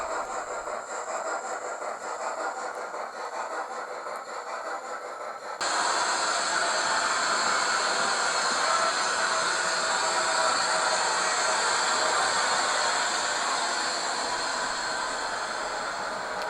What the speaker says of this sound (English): managed to get this locomotive steaming beautifully